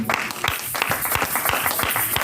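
A church congregation claps in praise to God, with many hands beating a quick, roughly rhythmic pattern. The sound is loud and sustained, and a low thumping pulse runs beneath it.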